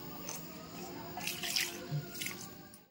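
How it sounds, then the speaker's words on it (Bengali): Water from boiled wheat-flour pasta poured into a colander, a steady close trickle and splatter of draining liquid with a few drips, continuous and unaccompanied by talk. "এই যে ঢেলে নিলাম ঝুড়িতে, জলটা তাইলে এখানে চলে যাবে"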